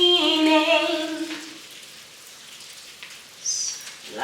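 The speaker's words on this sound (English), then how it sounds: "Oh my God, it's raining!" Rain falls outside as a steady, soft hiss and patter throughout. A short tonal sound rings out at the start, and a faint higher chirp comes near the end.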